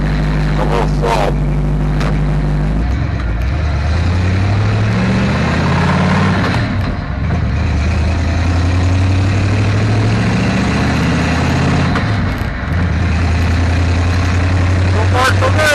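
A 1964 Ford F350 dump truck with 5.88 gears cruises at about 30 mph, its heavy engine droning loud and steady from inside the cab, with someone talking over it for much of the time.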